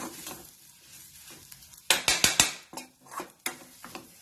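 A spoon stirs a besan flour mixture for a matar puri filling in a sizzling pan, with a quick cluster of loud scraping strokes followed by softer, spaced-out stirs against the metal.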